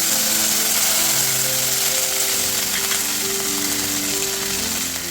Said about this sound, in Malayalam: അതൊന്ന് ചൂടായി വരുന്ന സമയത്ത് കറിവേപ്പില ഇട്ട് കൊടുക്കാം